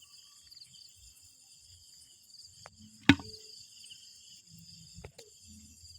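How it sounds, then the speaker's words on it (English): A brown cricket chirps softly in a steady high continuous trill outdoors, with a sharp click near the middle and faint low rustling underneath. "And this is one more cricket."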